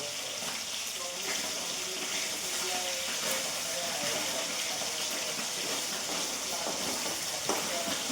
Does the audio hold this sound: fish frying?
yes